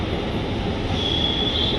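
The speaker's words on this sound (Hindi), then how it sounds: "सो गाइस मेट्रो जा रही है।" A metro train rumbles steadily at a station, with a thin, high wheel squeal rising over the continuous noise partway through.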